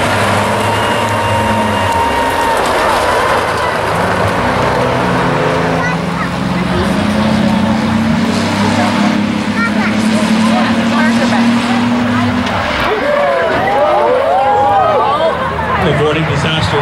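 Rumblebee race cars roaring around the oval at Medicine Hat Speedway as the green flag drops for a 25-lap feature, a continuous loud engine drone with rising pitch sweeps as cars pass, under steady announcer talk.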